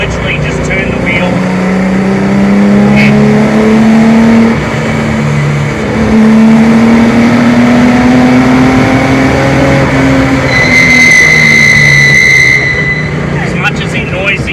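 A race car on a test drive holds a loud, steady engine drone whose pitch climbs and sags as it accelerates and shifts. A high brake squeal cuts in near the end.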